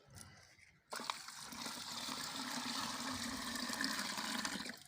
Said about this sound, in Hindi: मैंने 4 सेर पानी ऊपर डाल दिया।